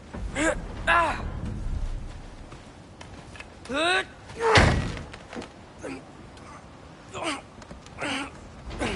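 Kratos forces open a frozen door in God of War Ragnarok, giving one heavy thud amid strained grunts, with voices talking before and after.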